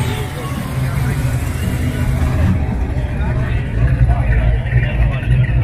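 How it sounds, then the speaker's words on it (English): Big cam engines idling at a car cruise, a low continuous rumble of several motors nearby under crowd chatter, with someone talking over it. "all I hear is big cam engines rumbling around on idle"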